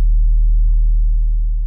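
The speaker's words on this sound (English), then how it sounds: "And I added like a sub drop on top of it" A deep sub drop sounds as a loud, pure sine-like bass tone. It holds steady and smooth for under two seconds, with only a faint higher trace of the stretched synth layer above it.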